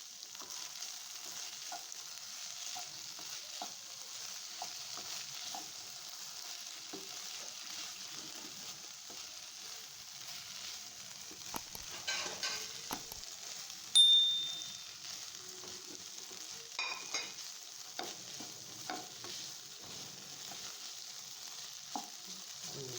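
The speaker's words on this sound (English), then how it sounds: "Now you need to mix everything well so the cheese blends together with the vegetable." Cheesy mixed vegetables being stirred in a frying pan, a faint steady sizzle with soft spoon scrapes and one brief metallic clink against the pan, no voices.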